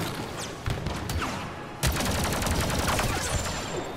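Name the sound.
machine gun fire in an arcade video game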